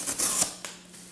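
An edged hand tool slices through material with a short crisp cut, followed by a softer second snip, close and alone.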